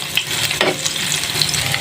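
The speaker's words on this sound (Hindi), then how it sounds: "अब हम प्याज को थोड़ा सा ब्राउन करेंगे" Sliced onions fry in hot oil on their way to browning, a loud close sizzle with spoon stirring scrapes, brief and continuous.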